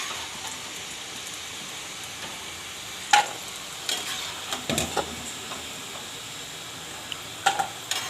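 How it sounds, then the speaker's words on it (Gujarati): Cashew biscuits frying in oil make a soft, steady sizzle like light rain, broken by several scraping clinks of a spoon as they are stirred, close by with no talk. "તો આપણે આ રીતે બધાય આપણે શેરવી લેવું, એકદમ સરસ તળી લેવું."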